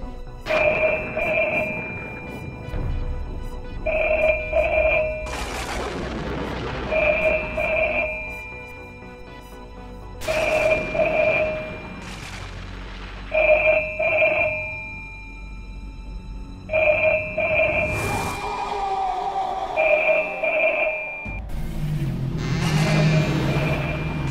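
A telephone in a house rings in repeated double bursts, a steady rhythmic electronic ring with pauses between cycles, heard alone at moderate loudness.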